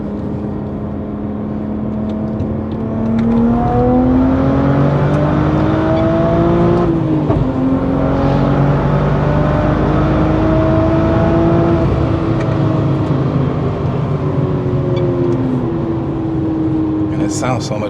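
A 650whp BMW 440i accelerating hard from inside the cabin, its engine note climbing and droning loudly through rising pitch sweeps, with a shift break partway through and brief voices over it.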